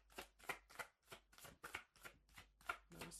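Tarot cards being shuffled in a steady series of about nine crisp riffling bursts, close up and alone with no talking.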